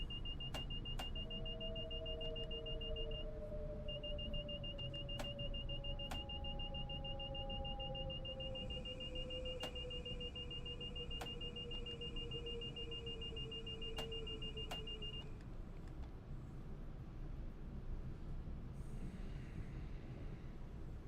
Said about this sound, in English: So unfortunately the buzzer does go off still.